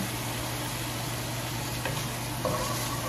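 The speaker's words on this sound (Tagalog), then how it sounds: "I want to brown the bagoong first." Bagoong shrimp paste browning with a little pork in a hot pan, giving a steady, even sizzle and hiss throughout, close and continuous with no talk.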